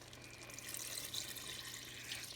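Beef broth pours from a 32-ounce carton into a cooking pot for French onion soup, a soft, continuous liquid splashing and trickling, faint and close, with no voices.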